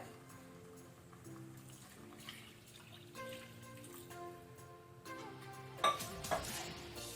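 Quiet stirring of rice and water in a pressure cooker for chicken biryani, with soft liquid swishes and a few clinks of utensil against metal, music playing faintly underneath.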